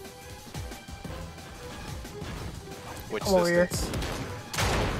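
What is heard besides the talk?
distant gunshots in the Fortnite video game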